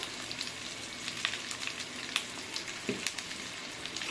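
Potatoes sauté with turmeric and spices in a pan, a steady close sizzle broken by occasional clicks and scrapes of stirring, with no talking.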